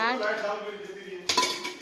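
Pots and dishes clinking in a home kitchen while rice is tempered, with a sharp clatter of metal and crockery near the end after a brief tonal ring.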